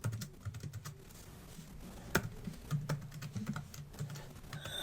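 A password is typed on a computer keyboard, producing a quick run of close, light key clicks in an uneven rhythm.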